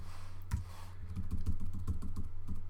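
Typing on a computer keyboard, a quick run of close, distinct key clicks in an uneven rhythm over a low steady hum.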